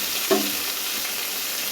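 Chopped tomatoes dropped into hot oil that has been tempered with nigella seeds and chopped onion give a brief splash, then settle into a steady close sizzle.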